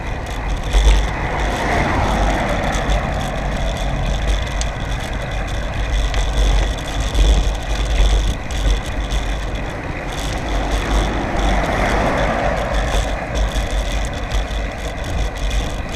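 Cars and trucks pass a cyclist commuting on big roads in light traffic, a steady windy roadside roar with broad swells as vehicles go by near the start and again later.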